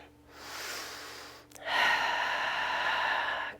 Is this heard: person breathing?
yes